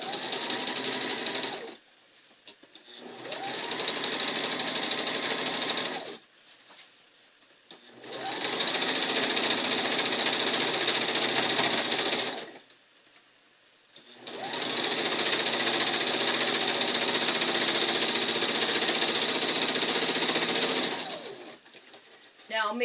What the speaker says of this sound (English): Now we're going to sew on the side where we put the pins at. And we're going to sew straight all the way down.